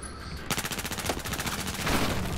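Rapid automatic gunfire in Battlefield 4, a dense run of close, loud shots that starts abruptly and keeps firing without pause, with no talking.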